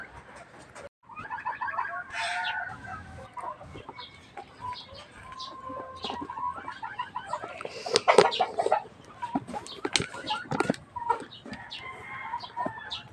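Young gamecock roosters (stags) cluck and chatter in a backyard, with overlapping calls and brief squawks, fairly close and varied in rhythm.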